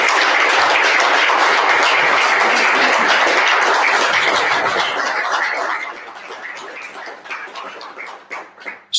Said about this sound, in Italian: dobbiamo fare un grandissimo applauso anche a lui